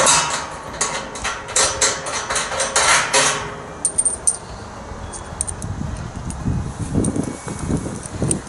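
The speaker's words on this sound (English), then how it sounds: "untighten these, hold your finger underneath here so that this will fall loose and fall down into the bucket" A loosened part of a honey extractor, held by stainless steel fasteners, drops into a bucket with a burst of close metallic clanks and jingles, then quieter handling rustles follow.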